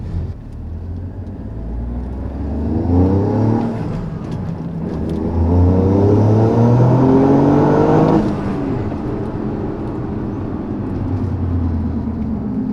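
A Toyota GR Yaris with a catless downpipe hums and rises in pitch as it accelerates smoothly, then settles back to a steady, fairly quiet drone.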